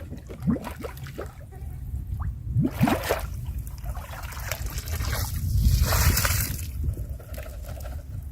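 Water sloshes and trickles as a sandbar drinker trough at Slab City drains out for cleaning, close and uneven, with gurgling pours swelling and fading.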